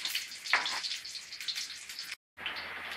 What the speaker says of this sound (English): next put in the onion and garlic into the frying pan